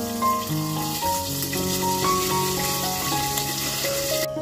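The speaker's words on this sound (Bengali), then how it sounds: "জল তো ফুটে উঠেছে" Water boils in a pot with a halved chili for a village-style curry of live snakehead fish, giving a steady bubbling hiss that runs continuously under background music.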